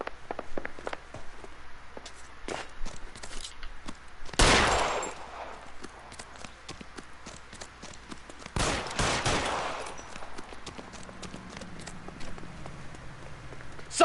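Two bursts of gunfire in the L.A. Noire detective game, each a loud broadband crack with a short rattling tail, set against a steady low background of clicks and faint scuffs.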